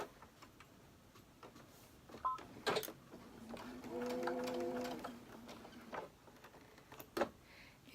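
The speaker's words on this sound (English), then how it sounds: "now I'm sewing them all together" A sewing machine joins quilt pieces for a barn block, running one short, steady burst of stitching at moderate distance. Quiet handling noises come before and after the run.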